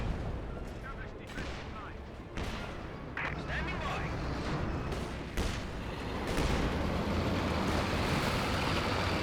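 An artillery barrage in Company of Heroes 2 lands as a string of heavy booming impacts and crackling blasts, several sharp explosions rolling into a rumbling wash, with a caster talking over the battle.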